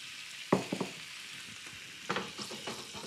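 Reserved clam broth poured into a hot pan of pasta vongole, sharp sizzling bursts and stirring clatter in two clusters over a low background hiss.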